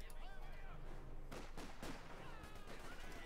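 Gunfire rattles from a Company of Heroes 2 battle as German grenadiers and British Tommies fight over a machine gun in the centre, with several dense bursts standing out against continuous game noise and mixed with talk.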